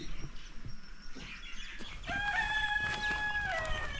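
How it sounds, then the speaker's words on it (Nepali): A rooster crows one long, clear call in a rural morning setting in West Surkhet, Nepal, rising in the second half after quieter background rustling; no talking. "भाले बासिसक्यो"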